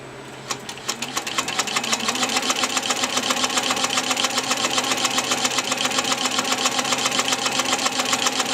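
A sewing machine stitches quilting through fabric, starting with a few separate stitches and then settling into a fast, even needle rhythm. The mechanical clatter is loud and close, with no voices.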